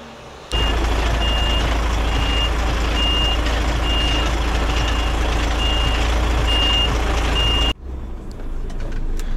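A truck pulls into a wash bay with a loud, steady engine rumble and a reversing alarm beeping at regular intervals, and the noise cuts off abruptly near the end.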